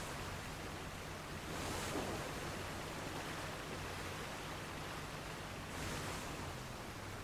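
Ocean waves in the video game Age of Water make a steady, dense wash of surf, with fuller swells rolling in twice amid a constant roar and no voices.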